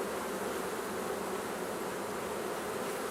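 Steady, continuous buzzing of honeybees including a drone, a dense droning hum with no pauses, close and even in loudness throughout.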